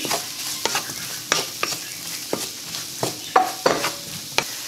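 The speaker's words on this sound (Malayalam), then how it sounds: "മാരിനേറ്റ് ചെയ്ത് വെച്ചേക്കുന്ന ആ സോയ ഇതിലേക്ക് ആഡ് ചെയ്യാം അതിനുശേഷം ചെറുതായിട്ട് ഒന്ന് ഇളക്കി കൊടുക്കാം" Marinated soy chunks frying in a pan and being stirred, a soft steady sizzle punctuated by about a dozen sharp spatula knocks and scrapes against the pan, close up with no voices.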